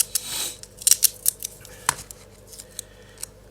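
A sharp scissor snip cuts a piece of tape while making a shirt, followed by a few lighter clicks and rustles, close and quiet with no talk.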